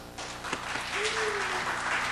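Church congregation applause welcoming a lecturer starts and builds into sustained clapping, with a short voiced sound rising briefly over it.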